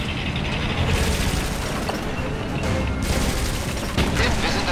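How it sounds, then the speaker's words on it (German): Gunfire rattles across units in the World War II strategy game Blitzkrieg 3, a dense fusillade of bursts and sharp reports with a few louder booms, continuous and fairly close. "Unsere Einheiten werden beschossen."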